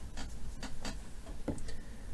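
A single die rolled for a fantasy gamebook, giving several short, close clattering ticks as it tumbles and settles on a hard surface, with no talking.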